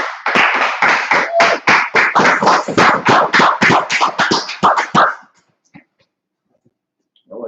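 A small group claps in quick, fairly loud bursts of irregular rhythm at the start of a live Biblical law class in Minneapolis, then the clapping stops and the room falls nearly silent.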